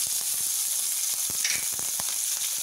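Mustard seeds, cumin, green chilli and curry leaves sizzle in hot oil with a dense, loud, steady hiss and scattered crackling pops, close up.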